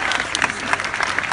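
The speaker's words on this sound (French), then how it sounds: "On peut l'applaudir, vraiment." Audience applauding student singers from a rock music school at a concert, a dense burst of clapping with crowd noise, close and loud throughout.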